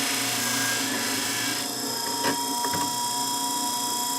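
Scimech Jr Flathone shears sharpener running at about 70% speed, a steady whirring motor drone with a faint grinding rasp and a couple of brief scraping touches, close and constant.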